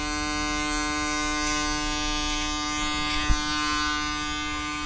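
An electric hair trimmer outlines the nape of a man's neck before waxing: a steady, loud, close mechanical buzz holds without a break, with one small knock partway through and no talk.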